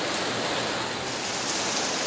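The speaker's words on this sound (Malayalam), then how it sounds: "നല്ല ശക്തിയായിട്ടുള്ള മഴ തന്നെയാണ് പെയ്യുന്നത്." Heavy rain pours down steadily in a dense, even hiss that fills the clip, loud and close with no gaps or voices.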